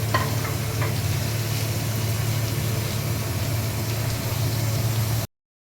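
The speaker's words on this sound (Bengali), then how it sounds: "পেঁয়াজ কুচিটা আমি সুন্দর করে ভাজবো।" Chopped onions fry in hot oil in a pan, a dense continuous sizzle over a low hum that cuts off abruptly at the end.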